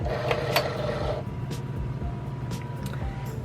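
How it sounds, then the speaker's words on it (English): A Cricut cutting machine feeding in material gives a low mechanical whir with light clicks and a few soft knocks, close and steady with no talk. "So now I'm going to just feed it in to the Cricut"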